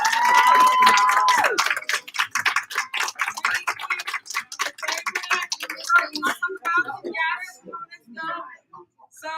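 Audience applause from a live crowd, dense clapping that starts loud, thins into scattered claps and fades out over several seconds, with a brief whistle near the start.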